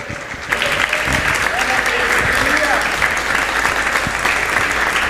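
A church congregation at a special Thursday service applauds in praise, a loud, dense burst of clapping from many hands that starts abruptly and carries on steadily, with voices calling out beneath it.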